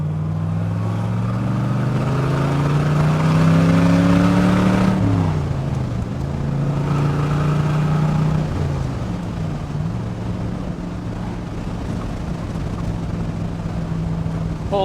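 A 1966 Chevrolet Corvette coupe with the 427 V8 revs and accelerates from inside the cabin, its loud engine note climbing through gears, dipping at shifts and rising again.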